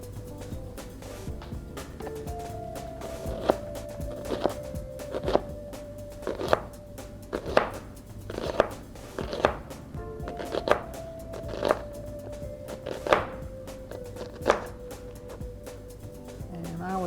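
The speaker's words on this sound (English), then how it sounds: "This is about 1/4 of a large onion. So we'll slice that up." A knife slices through a quarter of a large onion on a board in a series of rhythmic, fairly crisp cuts, with a faint tonal hum running in the background.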